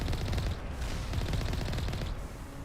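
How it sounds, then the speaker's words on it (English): Turret gunfire in Mass Effect Legendary Edition, dense continuous rapid shots forming a loud unbroken barrage with no talk over it. "Can't proceed on foot while there's freaking turrets"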